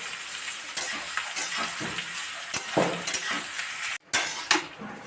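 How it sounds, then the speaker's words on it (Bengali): Rice being stirred into vegetables in a pan for chicken fried rice, with repeated scraping and clinking strokes of a utensil over a steady frying sizzle, close and fairly loud. "অল্প অল্প করে রাইস দিয়ে দেবো সবজিটা মিশিয়ে জন্য।"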